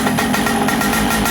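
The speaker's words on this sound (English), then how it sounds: "It's a very angry motor." Vintage Komet K35 kart engine, 55.10mm bore and 56.00mm stroke, running hard during break-in with a loud, steady, raspy two-stroke buzz throughout.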